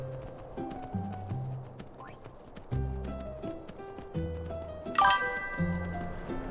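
Horse hooves clip-clopping at a steady walking rhythm in Skyrim, mid-distance and fairly loud, over game music, with one sharper bright accent partway through.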